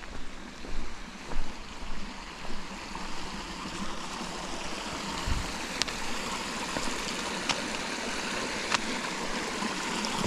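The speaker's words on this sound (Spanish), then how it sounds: "Esto es un arroyo muy fresquito." A cool stream rushes and gurgles over rocks beside a walking route near Cañaveral, a steady broadband wash that goes on throughout with a few faint ticks and no voices.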